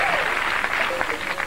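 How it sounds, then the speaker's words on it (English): Game show studio audience on Catchphrase giving dense, loud applause with cheering, a continuous roar of clapping filling the room. "The crowd are screaming, they love you"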